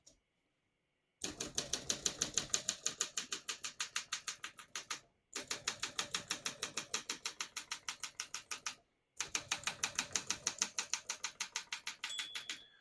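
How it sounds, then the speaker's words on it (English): Typing on a 1960 Olympia SM4 portable typewriter: three close bursts of rapid, even key strikes separated by brief pauses, with a faint ring of the margin bell near the end. "Once you hear the bell, you're near the end of the margin."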